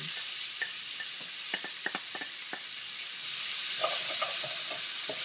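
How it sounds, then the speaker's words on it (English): A previously cooked mixture frying in a hot pan with olive oil, a continuous bright hiss and sizzle with clusters of quick scraping and tapping stirs, close and clear with no speech. "I'm going to put a little bit more olive oil into here, and I'm going to put this mixture that initially cooked in here back inside into the pan"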